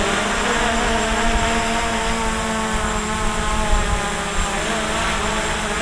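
Budget quadcopter drone, Visuo Zen K1 or SG906 Pro, hovering and drifting on its own outdoors in light wind, giving a steady, loud whirring buzz of small propellers that holds unbroken and close throughout.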